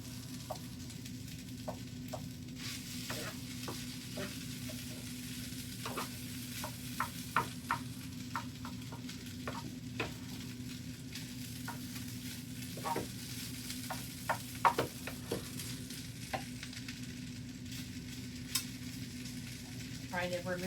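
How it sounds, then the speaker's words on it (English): Chicken fried rice is scraped and stirred in an oiled pan over a steady, low sizzle, with scattered sharp spatula scrapes and taps against the pan bottom throughout. "You want to scrape that good stuff up off the bottom and mix that in with your rice"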